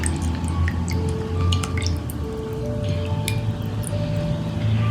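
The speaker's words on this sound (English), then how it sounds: "I'm going to now squeeze the tamarind juice and add to this." Tamarind juice is squeezed into a pot of mango rasam, dripping and splashing in close, wet trickles over a steady low background rumble.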